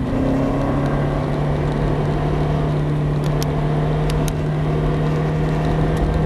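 A Ferrari F430 drives a race track with a steady, loud engine drone, a constant hum held throughout and faint high ticks near the end.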